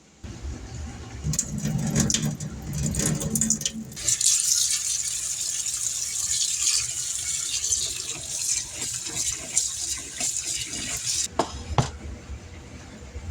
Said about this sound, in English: It's time to rinse and drain these a few times.